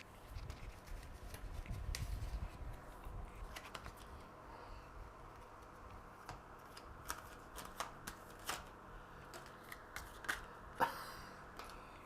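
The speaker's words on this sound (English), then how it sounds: "We've got cards flying out everywhere." Tarot cards being shuffled with some flying loose, a soft, close riffling and slapping that builds early and then breaks into scattered flicks and taps, with no talking.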